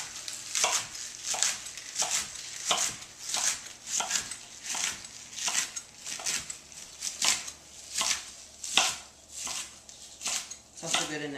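Kale leaves being chopped into small pieces with a knife on a cutting board, a steady series of crisp, evenly spaced cutting strokes close by, about two per second.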